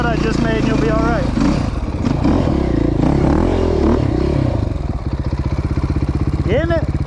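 Dirt motorcycle ridden at full throttle through soft sand at Croom Motorcycle Area, its engine droning loudly and steadily near the mic with rising revs, rattles and clatter, and a voice talking over it throughout.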